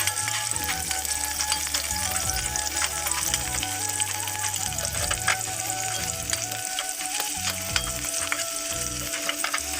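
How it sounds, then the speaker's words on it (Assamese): Onions sizzle and crackle steadily in a hot pan with cinnamon, frying continuously for the whole stretch, with occasional scraping of stirring mixed in. "তাৰপিছত আৰু পিঁয়াজখিনি দি দিছোঁ মই, তাৰপিছত অলপ ভাজি লৈ"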